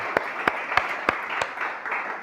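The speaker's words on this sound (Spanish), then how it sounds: "Y el que lo cree dice amén y le da un aplauso al Señor" A church congregation claps for the Lord: a few sharp, spaced claps stand out over a steady murmuring crowd wash, moderately loud and close.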